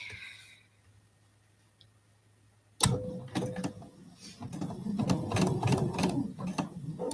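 A sewing machine stitching fabric starts up after a quiet pause and sews in short bursts with mechanical clicks and a steady whirring hum, close by.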